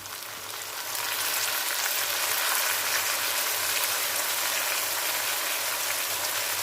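Tomatoes fry in hot oil in a pan while chicken biryani is being cooked, giving a steady, loud sizzle that swells after the first second and then holds evenly with no talk.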